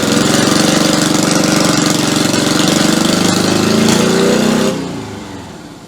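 A swapped-in engine in a Citroen 2CV runs loud and close with a rapid, buzzy, knocking chatter and rising revs, then cuts back and fades down near the end.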